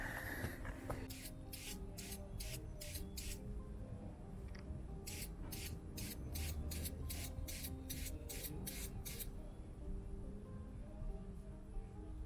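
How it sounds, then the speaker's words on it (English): Repeated short bursts of aerosol oil spraying onto a BMW E92 M3 air filter, two clusters of quick hisses in a steady rhythm, close by over faint background rumble. "Now we gotta re-oil it."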